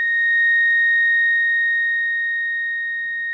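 Pure steady 1,700 hertz tone driving a vibrating plate into standing-wave patterns, a constant loud electronic whine held unbroken throughout with faint background noise.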